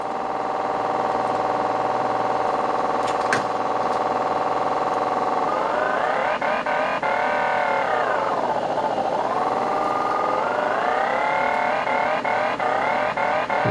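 Suzuki Hayabusa first-generation motorcycle engine held at a steady high drone, then swept up and down through the revs as the throttle opens, with a close, loud, continuous tone and no talk.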